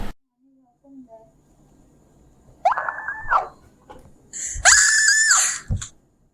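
A woman's shrill, high-pitched scream rings out twice, close and loud. The second scream is longer and stronger than the first, with quiet in between.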